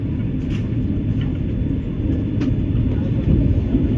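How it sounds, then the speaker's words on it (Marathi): Vande Bharat express train on the Pune–Hubballi route pulling away from Sangli station, a steady loud rolling rumble and rail noise heard from inside the moving coach, with faint intermittent clicks and no voices. "1 मिनिटं ट्रेन थांबते आणि लगेच रवाना सांगलीवरून"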